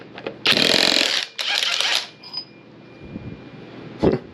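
A SeeSii cordless 1/2 inch impact gun hammers on an EJ engine crank bolt in two loud close bursts of rapid rattling impacts, then a brief whine and a lighter knock as it stops.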